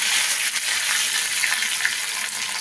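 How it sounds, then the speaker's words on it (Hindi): Black mustard seeds and curry leaves sizzle and crackle in hot oil for a tempering, a dense steady hiss with scattered small pops, close and continuous, with no voices. "राई जब अच्छे से चटक जाए तो ये जो हमने करी पत्ता लिया है इसको भी इसी समय"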